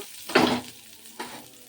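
Hot tempering poured into coriander chutney gives one short, sharp sizzling burst, then a fainter second crackle about a second later, close and brief with no voices.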